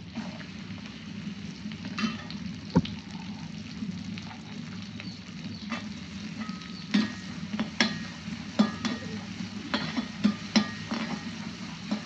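Chopped garlic sizzles and crackles in hot oil in a pan for restaurant-style chilli chicken, with steady frying hiss punctuated by sharp clinks and scrapes of a spoon stirring, close and fairly loud with no talking.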